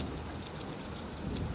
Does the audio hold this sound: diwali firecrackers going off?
no